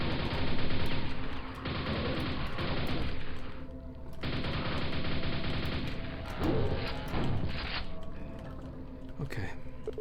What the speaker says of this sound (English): alright, nail gun